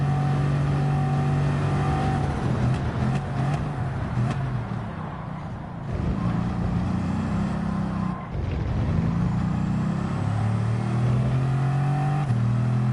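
Ferrari 458 GT3 race car engine in a racing video game, a steady loud drone that rises and falls through shifts, with a brief dip in the middle and no talk over it.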